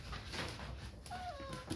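Small puppies whimper and yip in short high, wavering cries near the end of a brief stretch of room noise, fairly close and not loud.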